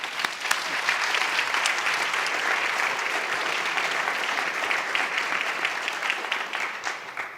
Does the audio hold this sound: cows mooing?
no